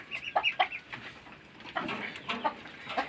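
Two male silkie chickens cluck softly nearby on a farm in a series of short, uneven calls over a low background murmur.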